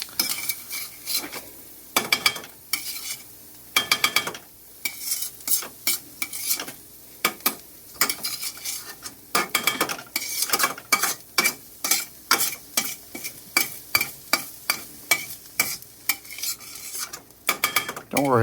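Sautéed onions scooped from a pan into a bowl with a metal utensil, giving rapid repeated scrapes and clinks against cookware over a soft background sizzle, close and fairly loud.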